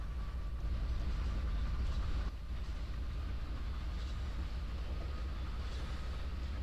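Low rumble of an oil train in the Trainz 12 simulator, a steady engine and rail drone with a faint tonal hum, continuous and moderately distant with no talk.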